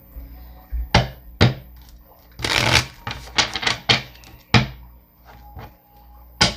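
Tarot cards shuffled by hand in a series of sharp riffling bursts and soft thuds, loud and close, with short pauses between handfuls and no voices.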